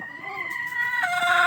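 Darag native chickens in Iloilo, with a rooster calling in a loud, drawn-out crow-like cluck that rises and then drops, heard close and alone without talk.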